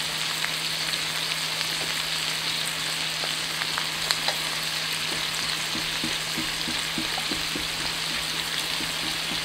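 Olive oil with a teaspoon of flour sizzles steadily in a pan, a loud continuous fry with faint stirring clicks and no voices.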